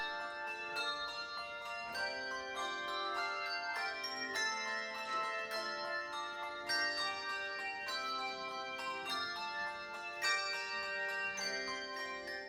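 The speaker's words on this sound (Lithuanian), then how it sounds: "Svečius sužavėjo išskirtinis islandų varpelių choro pasirodymas." Ringing handbells play a bright, layered melody, many tuned bells sounding in steady succession with long shimmering decays, no voices.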